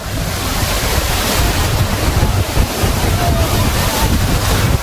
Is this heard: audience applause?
no